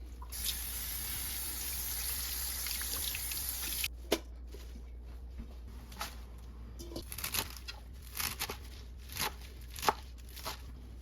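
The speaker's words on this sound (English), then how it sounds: "we're gonna rinse and cut our watercress" Tap water runs steadily into a sink while watercress is rinsed, then the flow stops and scattered knocks and taps follow, likely the greens being handled or chopped.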